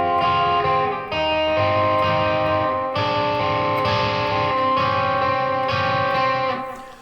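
An electric guitar in standard tuning plays the intro riff of a song, with sustained, ringing arpeggiated notes and a slightly effected tone, continuous and loud with no talking.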